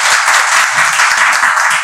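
An indoor audience at a business product seminar breaks into dense, steady applause, loud and close, with many hands clapping together throughout.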